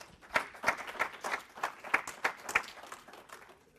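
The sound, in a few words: conference audience applause for speaker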